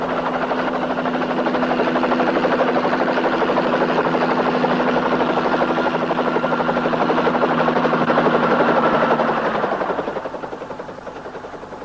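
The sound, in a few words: helicopter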